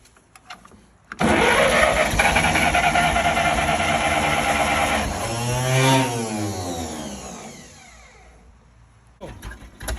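A tractor engine cranks briefly, then catches and runs loudly and steadily, with a noticeable rev swell midway before it settles to a lower idle; a faint voice is heard near the end.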